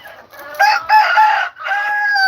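A rooster crows loudly and close, one long drawn-out call with a brief break before the final stretch.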